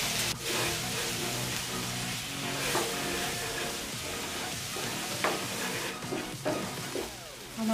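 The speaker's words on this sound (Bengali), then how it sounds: "এখন আমি এটাকে ভালোভাবে নেড়ে করে মিশিয়ে দেব।" Spices and soybean curry masala with extra chili fry in a pan while being stirred and mixed, a continuous near hiss and sizzle broken by occasional clinks and scrapes of the spoon, no one talking.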